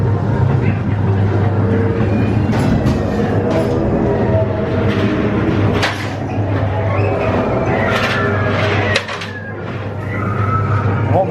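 A Ghost Train ride car at Blackpool Pleasure Beach rolls along its track with a loud continuous low rumble and rattling clatter, a few sharper knocks, and a voice speaking over it at times.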